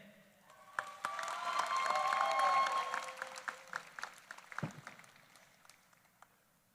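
A graduation convocation audience applauds honors graduates. The clapping swells over a couple of seconds, then thins into scattered individual claps that fade out, with a faint distant voice underneath.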